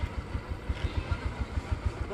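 A big scooter engine idles with a regular low putter of evenly spaced pulses, fairly faint and steady.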